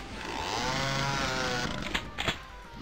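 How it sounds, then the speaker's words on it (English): Chainsaw revving in the video game Doom 2, a steady buzzing motor whine held for a few seconds with a couple of sharper bursts near the end, fairly loud and alone. "I think I'll use my chainsaw of doom"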